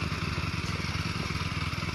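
A tractor engine chugs steadily while ploughing a field for sowing in the Konkan, a rhythmic mid-distance diesel throb that stays even throughout.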